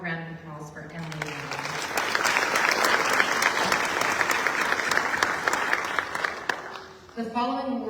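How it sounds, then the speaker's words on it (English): Audience applauding at a family scholarship award ceremony, a sustained burst of clapping from a seated crowd that swells for several seconds, with a speaker's voice heard briefly before and after. "One more round of applause for Emily."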